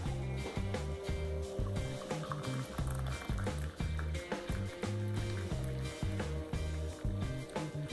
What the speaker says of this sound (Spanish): vamos a servir nuestra taza de café en leche que lo hemos colado directamente